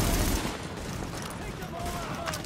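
Sustained gunfire from a heavy-recoil gun in the video game Tom Clancy's The Division, dense and continuous across the moment with a heavier burst at the start, mixed with game battle noise and faint voices.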